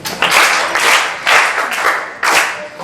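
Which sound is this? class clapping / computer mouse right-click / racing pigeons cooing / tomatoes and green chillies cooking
class clapping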